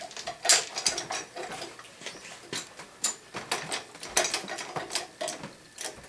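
Ratchet of a hand pump on a homemade sky-hook crane gives a series of sharp, irregular clicks and metallic ticks, close and moderately loud, repeating over several seconds with no talking.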